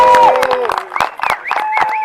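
Live audience clapping and cheering at the Eswatini Teqball Challenger Cup Finals, a crowd reaction swelling in bursts under a commentator's voice and scattered shouts.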